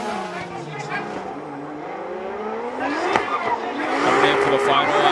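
Drift cars from a Top 16 competition round at Suzuka Twin Circuit, Mie, sit at the start line and rev their engines loudly. The revs rise and fall continuously and grow louder toward the end, under crowd and announcer noise.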